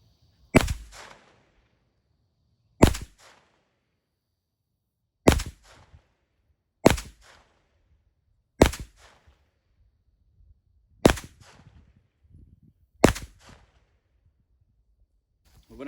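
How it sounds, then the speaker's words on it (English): Seven sharp rifle shots from a Zenith ZF-5 roller-delayed rifle, evenly spaced about two seconds apart, each a loud crack with a brief decay, fired at a range while zeroing, with quiet gaps between. "So now let's take a few shots just to make sure we're at that good zero."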